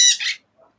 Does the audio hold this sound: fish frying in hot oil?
no